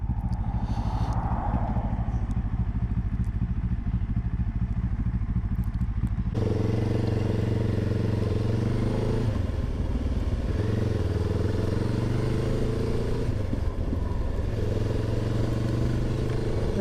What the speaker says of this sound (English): It's got a nice tick over.